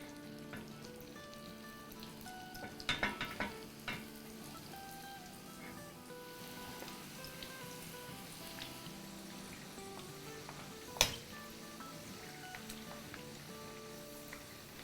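Keema samosas frying in hot oil over medium-low heat, a steady soft sizzle and crackle with a couple of brief louder clatters, no talking.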